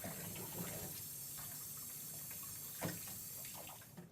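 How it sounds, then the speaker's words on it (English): Tap water runs through the tubes of a trumpet to rinse off soap, a steady faint splashing flow with a brief louder gush partway through, close and without voices. "Now you want to run water through all the tubes and get all the soap off the instrument."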